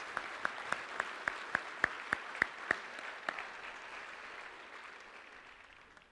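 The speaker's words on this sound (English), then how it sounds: "one more round of applause for our students going into the armed services" About ten sharp, separate claps ring out in the hall at the 2024 Norris High School Honors Convocation for students heading into the armed services. The claps come at an even pace, then stop, leaving only faint room noise.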